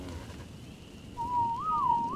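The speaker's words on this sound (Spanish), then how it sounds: "No, no hace caso a los silbidos" A whistle command in the survival video game ARK Survival Evolved: a single clear, wavering melodic whistle, fairly faint, rising and dipping over about a second after a quiet pause, alone with no talking.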